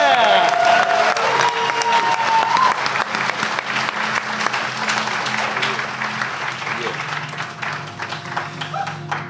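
Players at a live Pathfinder tabletop game session break into sustained applause with scattered cheers, loud and close, while voices talk over the clapping and it slowly tapers off.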